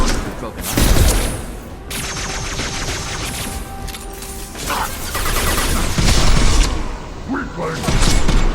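Gunfire and explosions from the video game Mass Effect 2 come as loud, rapid bursts of shots and heavy booms that blend with clanking mechanical effects, while a voice talks over the combat.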